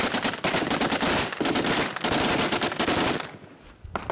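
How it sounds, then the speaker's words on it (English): Sustained automatic gunfire as a base in Homs returns fire, Kalashnikovs among the weapons: loud, close, continuous bursts with brief gaps, then fading near the end before a final short volley. "the base starts to return fire"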